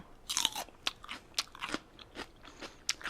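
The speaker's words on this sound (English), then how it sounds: "Listen to that crunch." Crunching bites into spicy peppers, several sharp crisp snaps spaced irregularly with softer chewing between them, close up and with no talking.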